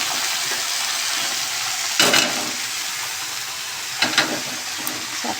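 Greens (saag) frying in a pan give a loud, continuous sizzle up close, with two sharper bursts of crackling as they are moved about.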